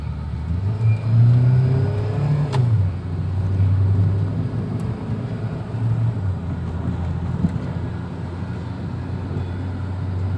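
A 2007 Suzuki Grand Vitara automatic accelerating hard in third gear, its engine droning and rising in pitch, heard steadily from inside the cabin, with the drone easing midway.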